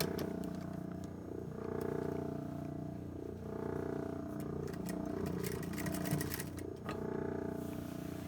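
A sewing machine stitches down a shirt collar stand on a men's tailored shirt, a steady close hum with rhythmic needle ticking that dips briefly and resumes.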